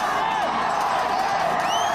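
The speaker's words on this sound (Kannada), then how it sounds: "ಜೈಕಾರ ಜಯ ಘೋಷ ಮೊಳಗ್ತಾ ಇರೋದನ್ನ ಕೇಳಿಸ್ಕೋಬಹುದು" A large, dense crowd of BJP supporters cheers and shouts continuously at an election rally for Prime Minister Narendra Modi, with a few whoops and whistles rising above the steady roar.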